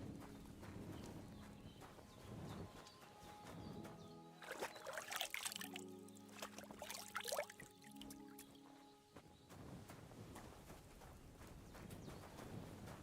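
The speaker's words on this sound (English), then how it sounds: "Look at it trotting away." A horse trots away in the medieval video game Kingdom Come: Deliverance II, its clip-clop hoofbeats very faint and regular, with a quiet musical tone rising in the middle stretch.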